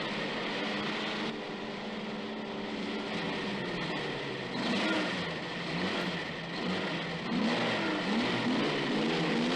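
Several old cars rev loudly and continuously before a race in a film, a dense roar with rising surges and engine harmonics swelling toward the end.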